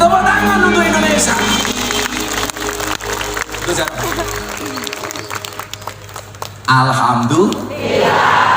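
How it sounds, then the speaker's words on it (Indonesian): Crowd at an Indonesian religious and national gathering breaks into loud, sustained applause and cheering, with a brief dip midway before the clapping surges again, voices mixed through it. "Tepuk tangan untuk Indonesia."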